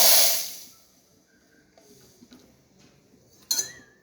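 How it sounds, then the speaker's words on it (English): Steam wand of a Rancilio Silvia espresso machine hisses loudly in a burst at the start, fades, then a second short hiss returns near the end amid faint kitchen clinks. "we're going to go ahead and test the steam."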